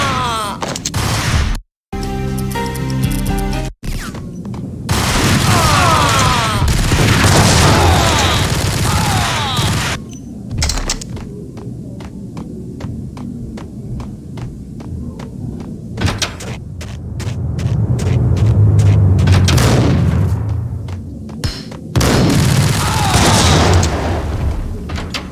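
Gunfire in the PC shooter Max Payne: several sharp bursts and short volleys ring out among loud game noise, with booming hits and scattered impacts across a busy stretch.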